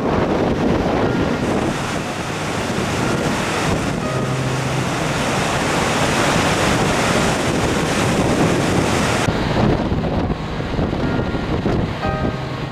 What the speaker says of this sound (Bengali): নায়াগ্রা জলপ্রপাত।